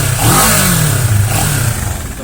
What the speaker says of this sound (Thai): เดี๋ยวฟังเสียงท่อใกล้ๆกันบ้างดีกว่าครับ